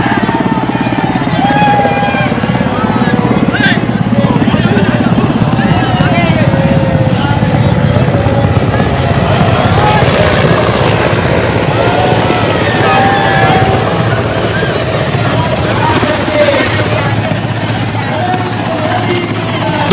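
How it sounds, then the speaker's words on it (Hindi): Narendra Modi's helicopter arrives at an election rally in India as a loud, continuous rotor roar and wash, blended with crowd noise and nearby voices talking throughout. "हमारे पीछे हेलीकॉप्टर आ चुका है"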